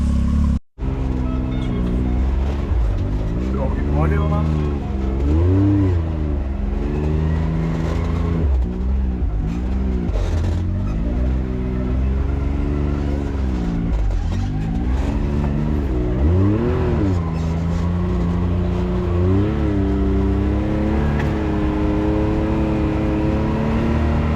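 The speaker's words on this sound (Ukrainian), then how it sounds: "Але з легкістю машинка йде." A BRP Maverick X3 off-road buggy engine drones and revs continuously up close, pitch rising and falling with throttle changes as it drives over rough ground.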